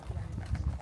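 Horse hooves clip-clop in a quick, close run of steady beats during a horse ride near Valladolid in Mexico, with faint talk in the background.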